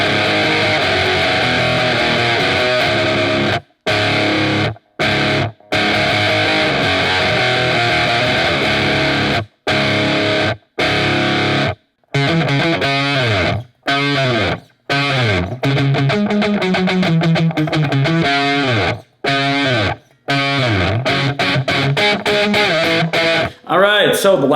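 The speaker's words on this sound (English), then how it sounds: "the full riff is gonna sound like this" Distorted electric guitar plays a riff, loud and up close, with heavy chugging chords broken by short choppy stops and rapid muted stabs toward the end.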